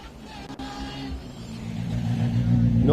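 A rally car on a special stage approaches from a distance, its engine drone growing steadily louder and rising in pitch as it nears, with faint ambient noise underneath.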